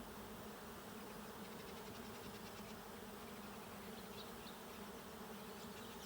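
A swarm of bees hums faintly and continuously in the distance outdoors, a steady low buzz with no talking.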